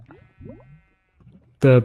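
Sheep in a Minecraft game bleat a few times in short wavering calls, moderately loud and close, with a brief spoken voice at the end.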